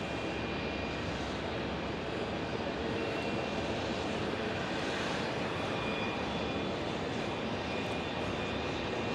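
An Airbus A220 airliner at Phoenix Sky Harbor Airport gives off a steady, moderately loud engine roar with a faint high whine, unbroken from start to finish.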